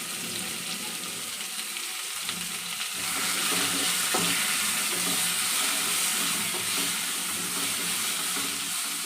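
Chicken frying with salt and turmeric hisses and sizzles steadily in a pan while being stirred, the sizzle swelling louder partway through, with no talking.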